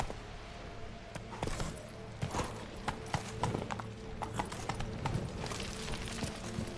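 Horse hooves clip-clop steadily at a riding gait in The Witcher 3, a loud rhythmic run of hoofbeats with a neigh mixed in, under ongoing game ambience.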